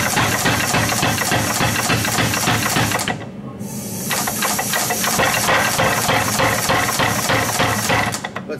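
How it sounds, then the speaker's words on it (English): A Big Blu power hammer with its stroke set low pounds steel in a rapid, steady rhythm, loud and close, briefly dropping off before resuming at a slightly quicker pace. "you'll hear that hammer speed up a little bit"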